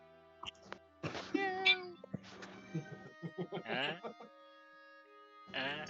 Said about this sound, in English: meowing like a madman